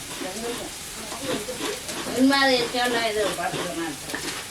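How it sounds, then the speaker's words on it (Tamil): Onion, tomato and ginger paste sizzles steadily in a hot pan as it is sautéed for a chicken gravy, with stirring, while someone talks over the frying. "வெங்காயம் தக்காளி இஞ்சி போட்டு பேஸ்ட் எல்லாம் நல்லா வதங்கிட்டு"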